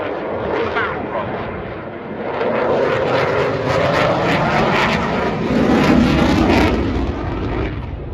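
A Eurofighter Typhoon FGR4 jet roars through a display at the Duxford air show, a loud, sustained rumbling engine noise that swells and rolls as the aircraft banks away, with a commentator talking over it.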